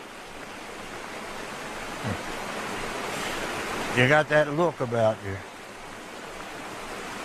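Steady rushing wash of river water flows continuously at moderate level, with someone speaking briefly over it partway through.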